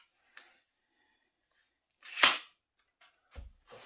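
A pin nail gun loaded with small pins fires while shelves and cupboards are being built, giving a few sharp isolated snaps separated by near silence, with one louder shot in the middle.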